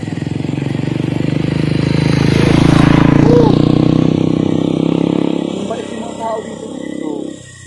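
Several motorcycles pass by on a rural road at night, engines swelling loud and close before fading, with people talking throughout.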